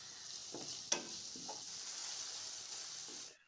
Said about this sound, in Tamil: இஞ்சி பூண்டு சேர்த்ததும் நல்லா வதக்கி விட்டுக்கோங்க.